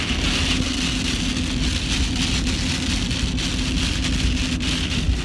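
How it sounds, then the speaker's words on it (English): Heavy storm rain pounds steadily on the roof and windshield of a moving car, a dense constant drumming with a low hum underneath, no talking. "We just drove into the center of the storm we were trying to miss."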